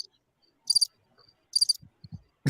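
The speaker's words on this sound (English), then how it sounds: "Yes, crickets." Crickets chirping in short, sharp bursts, two clear trills spaced apart against near silence, with a few soft low thumps in between.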